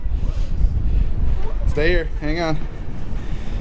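Strong wind buffets the microphone in a low, continuous roar at a hilltop fire tower while someone speaks briefly over it.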